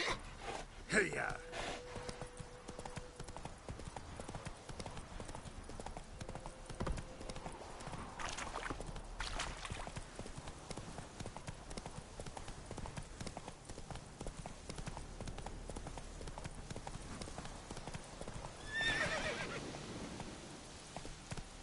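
Roach, the horse in The Witcher 3, trots with crisp, rhythmic clip-clop hooves close by, neighing near the start, while a voice speaks over the hoofbeats.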